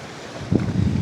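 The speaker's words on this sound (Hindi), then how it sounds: "आज हवा बहुत तेज़ है" Strong wind gusting by the water at a fishermen's village on the Sindh coast, a steady buffeting roar on the microphone that swells partway through, with no talk.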